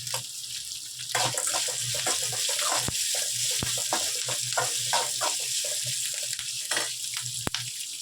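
Garlic and ginger fry in a pan with a steady, close sizzle, broken by scattered crackles and a few sharp clicks, and no voices.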